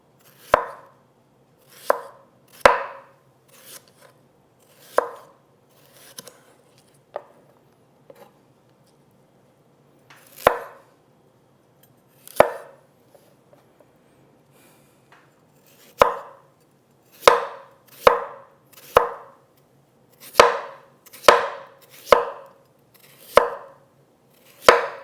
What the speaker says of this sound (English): we'll take our radishes and slice those